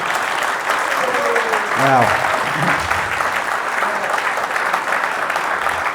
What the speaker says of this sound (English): You can clap now. That would be good.